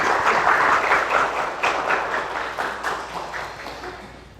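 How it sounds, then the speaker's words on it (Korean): Church congregation clapping after a choir solo, a steady patter of many hands that slowly fades, with no talking over it. "우리 박수로 다시 하나님께 영광 돌리겠습니다."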